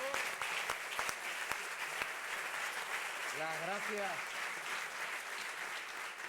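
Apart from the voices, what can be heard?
audience applause after panel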